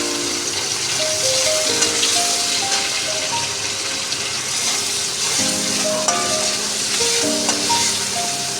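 Chopped onion and tomato frying in a pan give a loud, steady, close sizzle that holds unbroken throughout, with faint melodic tones running underneath.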